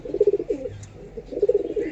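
Long, slender-feathered pigeons coo in short murmuring bursts, two clusters of soft low notes separated by a brief lull, close by.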